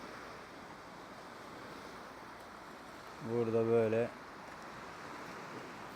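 Gentle sea waves wash against the shore at a seaside camp on the Mersin coast of Turkey, a soft continuous surf with light wind, and someone speaks briefly midway.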